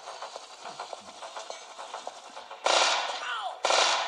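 Gunfire from a mobile video game gun, heard as a rapid rattle of close shots followed by two loud, sustained bursts of blasting noise near the end, with no speech over it.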